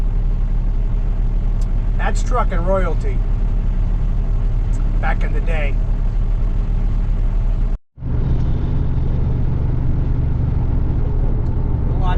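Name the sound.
old Ever-Ready trucking truck driving by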